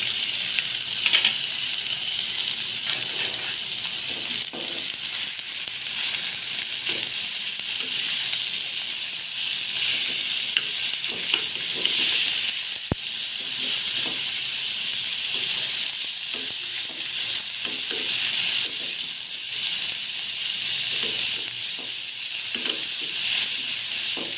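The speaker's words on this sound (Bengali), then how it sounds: "দর্শক, পেঁয়াজটা আমার ভাজা হয়ে গেল। এখন আমি কিমাটা দিয়ে দিচ্ছি।" Chicken mince for wonton filling sizzles with fried onions in a hot pan, a loud, steady crackling hiss that runs close and continuous throughout, with faint scraping from occasional stirring.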